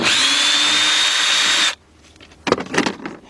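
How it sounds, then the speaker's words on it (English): A power driver whines steadily as it backs out screws on a 1999 Porsche Boxster during a brake booster replacement, then stops abruptly, followed by a short clatter of parts being handled close by. "once we take these screws off, we're gonna let me just take these 3 off real quick"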